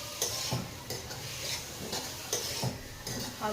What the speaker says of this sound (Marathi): अँड आता ही भाजी पण छानपणे आपण परतून घेणार आहोत मस्त.